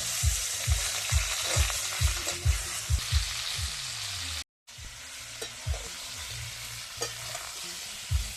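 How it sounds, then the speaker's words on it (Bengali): Cauliflower frying in mustard oil in a wok: a constant sizzle broken by regular, rhythmic stirring knocks of a utensil against the wok, with one brief cut-out midway. "ফুলকপি ভাজবো।"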